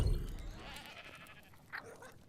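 Sheep bleating in the video game ARK Survival Ascended on the Aberration map, with one short bleat standing out briefly against a low background of game ambience.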